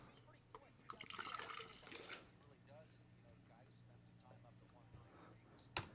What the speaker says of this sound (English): I just spilled this water over my leg.